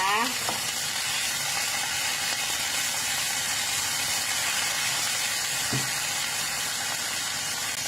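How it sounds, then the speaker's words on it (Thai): Steady loud sizzling of beef grilling on a hot surface, continuous crackle and hiss throughout, with a couple of brief clinks. "แล้วก็จะมีเนื้อย่างนะคะ"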